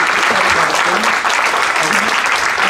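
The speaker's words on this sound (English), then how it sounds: "Can you please give a round of applause for them?" A full audience applauds the speakers of a security panel in a hosted venue, giving steady, dense clapping throughout.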